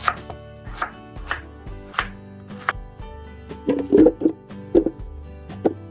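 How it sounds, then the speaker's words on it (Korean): A knife chops radish on a cutting board in a series of distinct, close thuds, spaced unevenly at first and then coming quicker and louder, with no voices. "무를 갈아 줄 건데요. 믹스기에 갈기 좋게 썰어 줄게요"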